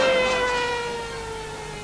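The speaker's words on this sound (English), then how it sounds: "Ambulances had to force their way through." An ambulance siren wails with a steady, slowly falling tone, moderately loud and fading slightly over a couple of seconds, in India in 1984.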